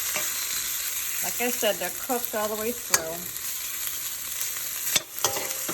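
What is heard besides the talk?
food frying in an oiled pan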